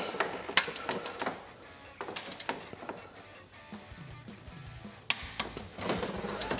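A torque wrench being tightened on a return line bolt of a Duramax LB7 diesel's fuel injectors, giving sharp mechanical clicks and ratcheting ticks in an irregular rhythm, close up, with one distinct louder click near the end.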